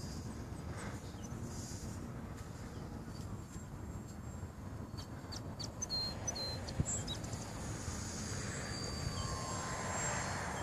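A radio-controlled stick model airplane is flying at three-quarter throttle, its engine giving a faint, distant, steady whine against outdoor wind and background noise, with no talk.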